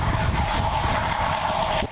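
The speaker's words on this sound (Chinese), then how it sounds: "永盈号高级教练机飞过跑道，好风叫引擎声" A Yongying advanced jet trainer makes a low pass over the runway at Taitung air base, its engine a loud, dense, unbroken roar that fills the whole moment.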